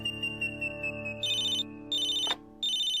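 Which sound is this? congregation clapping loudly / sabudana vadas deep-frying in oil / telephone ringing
telephone ringing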